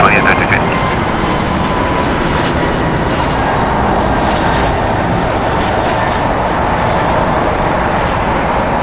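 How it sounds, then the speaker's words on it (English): A two-year-old American Airlines Airbus A321neo bound for Philadelphia roars loud and steady at LAX, a dense, unbroken jet-engine rush holding at full strength from start to finish, with no voices over it. "Flight 2832 going to Philadelphia on Airbus A321neo, 2 years old."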